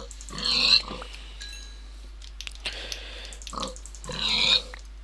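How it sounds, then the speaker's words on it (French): Pigs in the video game Minecraft grunt and oink in three loud bursts close by, with a steady low hum under them and no talking. "J'avais vu des cochons."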